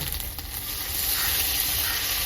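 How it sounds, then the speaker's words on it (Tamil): Ginger garlic paste sizzles steadily in a hot pan, a continuous close broadband frying hiss that holds level throughout with no voices over it. "இஞ்சி பூண்டு பேஸ்ட் நல்லா வதங்கிடுச்சுங்க புதினா போட்டுக்கிறேன்"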